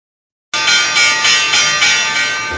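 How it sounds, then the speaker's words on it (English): After a moment of silence, the stock market opening bell starts up suddenly and keeps ringing loud and bright as a rapid, sustained metallic clang with a pulsing shimmer, running on unbroken for about two seconds. "Oh, there it is. Opening bell."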